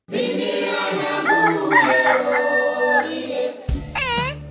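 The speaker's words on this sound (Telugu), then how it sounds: "ఏంటి పాపం కోడిని అరెస్ట్ చేశారు?" A tied-up chicken in a fruit orchard gives loud, drawn-out squawking calls close by, then sharper rising cries near the end.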